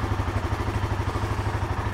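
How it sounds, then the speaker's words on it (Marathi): A Royal Enfield Himalayan 450 idles just after a cold start, its engine a steady, close, rhythmic thrum with regular low pulses and light mechanical clatter. "Cold starting the Himalayan."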